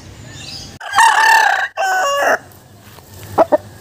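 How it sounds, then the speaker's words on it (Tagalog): A rooster crows loudly nearby in a long two-part call, followed by a couple of short clucks. "meron tayo ditong bagong manok no"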